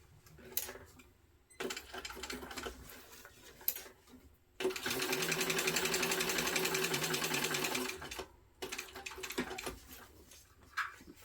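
A sewing machine stitches a backpack, running in a steady whirring burst of about three seconds between shorter stop-start stitching and handling noises, fairly quiet overall.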